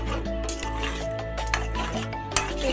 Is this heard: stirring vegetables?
yes